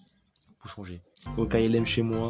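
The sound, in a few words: phone notification sound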